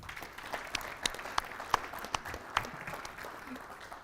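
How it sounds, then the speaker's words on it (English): Audience applause during the closing ceremony of the Tata Steel Chess Tournament 2022, a fairly quiet round of scattered clapping from the hall with a few sharper individual claps standing out. "a warm round of applause"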